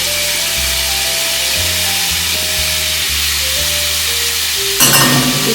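Jalapeno and onion frying in bacon grease in a cast iron pan, a steady close sizzle with a sharper burst of crackling near the end.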